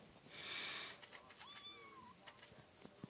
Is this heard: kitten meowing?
yes